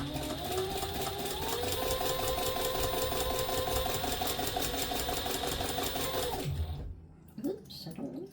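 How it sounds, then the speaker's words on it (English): A sewing machine stitches a quarter-inch seam on a handbag, a steady rapid mechanical whirring chatter running continuously for several seconds before stopping, followed by light handling sounds. "sew at 1/4 of an inch seam allowance again. Don't forget to back stitch,"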